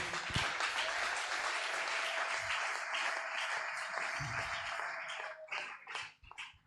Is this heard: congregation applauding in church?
yes